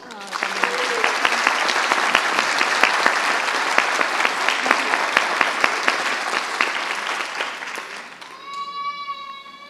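An audience at a panel talk on environmental education applauds the Colombian Minister of Environment and Sustainable Development with loud, sustained clapping, which fades as a voice begins speaking at the end.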